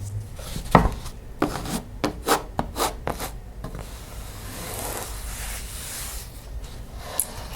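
A copy of The Little Prince, a 60th anniversary edition, is handled and tapped up close: soft scattered taps and quick brushing rubs, then a quieter stretch of gentle rubbing with no talk.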